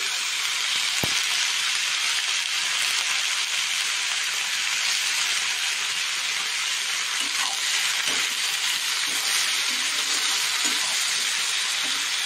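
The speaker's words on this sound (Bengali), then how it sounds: "কিছুক্ষণ নাড়াচাড়া করে সুন্দর করে ফ্রাই করে নিতে হবে।" Fish curry ingredients stirred and fried in a pan, a loud continuous sizzle with occasional scrapes and stirring knocks, close up and steady, no voices.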